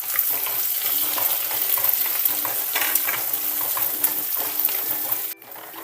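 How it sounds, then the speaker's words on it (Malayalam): Finely chopped shallots sauté in hot oil in a pan for a spinach stir-fry, a dense, continuous sizzle with stirring scrapes, close and alone until a brief drop near the end. "ഇതിലേക്ക് ഞാൻ കുറച്ച് ഉള്ളി ഒരു അഞ്ച് പത്ത് ഉള്ളി ചെറുതായിട്ട് കട്ട് ചെയ്തത് ഇട്ട് കൊടുക്കുന്നുണ്ട്"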